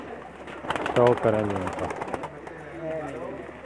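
Male and female racing pigeons coo close by in a village loft near Sarai Alamgir, giving several throaty rolling calls while someone speaks over them.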